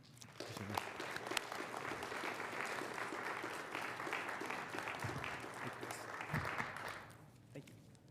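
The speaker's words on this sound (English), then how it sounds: "Let's give everybody a round of applause" Sustained applause from a crowd at a PCC governing board meeting, steady clapping for several seconds before tapering off near the end.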